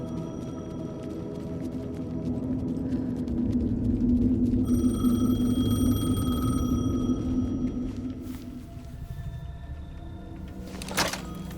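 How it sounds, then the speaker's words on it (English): A payphone rings in the video game Alan Wake 2, a steady electronic tone held for several seconds over a low droning hum before the sound fades. "The payphone was ringing."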